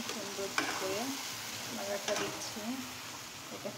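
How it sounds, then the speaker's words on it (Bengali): Taro leaves (kochu shak) fry in hot oil on a stove, making a steady close sizzle that runs throughout while a person talks over it. "আমি এখন তেলের ভিতরে শাকটাকে দিয়ে দেবো। আমি শাকটা চুলাতে দিয়ে দিয়েছি।"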